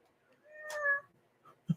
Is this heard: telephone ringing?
no